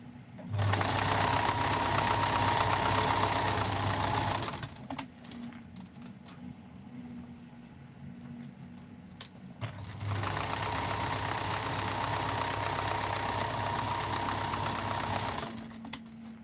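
A sewing machine stitching a seam flat runs in two long, steady, buzzing bursts of about four and six seconds, with a quieter pause of small handling clicks between them.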